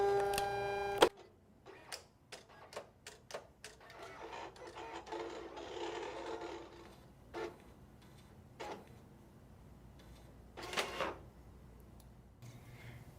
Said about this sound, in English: So that has fed through because we chose the feed option in those settings